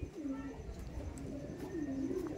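Madrasi racing pigeons, a pair of mature breeding birds, coo in low repeated rolling calls close by, with a steady hum of background noise.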